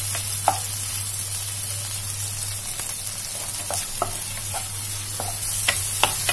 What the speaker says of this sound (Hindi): तो ये टमाटर भी इसी में मिक्स करेंगे